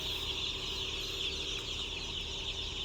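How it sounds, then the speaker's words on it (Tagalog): A crowd of day-old broiler chicks, freshly arrived from the hatchery at a farm, keeps up a steady high-pitched chorus of peeping, dense and continuous throughout at moderate volume. "day old chick"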